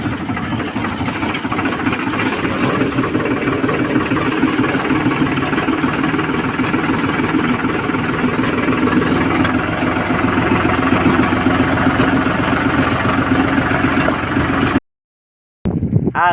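A tractor engine runs steadily while sowing a field for a winter crop, a loud continuous close drone with knocking vibration that cuts out briefly near the end.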